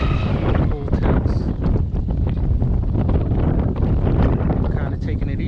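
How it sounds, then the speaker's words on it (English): Gusty wind buffets the microphone in loud, rumbling surges during a boat outing, with a voice partly buried beneath the roar. "Kind of taking it easy because of how gusty it is."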